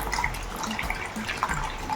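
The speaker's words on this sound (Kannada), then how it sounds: "ಈಗ ಇದಕ್ಕೆ ಬೆಚ್ಚನೆಯ ನೀರನ್ನು ಹಾಕೋದು ಒಂದು ಏಳರಿಂದ ಎಂಟು ಲೋಟದಷ್ಟು" Warm water poured onto finely ground semolina for idli makes a soft, steady splashing and trickling with faint drips, quiet and close.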